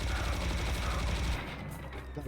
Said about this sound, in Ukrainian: Я поясню, чого я на нього кулемет витрачаю